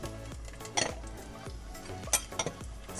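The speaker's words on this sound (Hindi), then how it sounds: "इसको हिलाते हैं अच्छे से।" A utensil stirring red and green chilies, capsicum and onion in a cooking pan, with soft scraping and a few light clinks of metal against the pan at an uneven rhythm.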